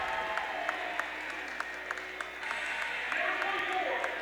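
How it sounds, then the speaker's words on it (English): A large crowd at a girls basketball sectional championship game, steady applause and cheering spread across the gym, with a voice talking over the noise. "A very big crowd for Roane County, but also for Ravenswood"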